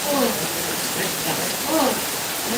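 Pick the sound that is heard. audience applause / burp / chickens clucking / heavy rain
heavy rain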